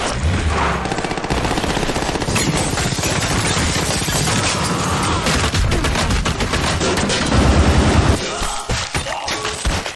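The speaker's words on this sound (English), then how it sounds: "The shootout lasted for quite a while and took many casualties." Heavy gunfire from a film shootout at a cabin, dense rapid bursts and loud shots sustained almost without pause, ending in a brief heavier crash before trailing off.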